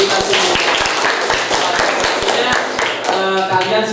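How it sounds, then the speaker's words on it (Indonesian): Children in a primary school classroom clap their hands in a fast, ragged rhythm, with sharp individual claps standing out close by and voices mixed in among the clapping. "Tepuk tangan untuk kita semua."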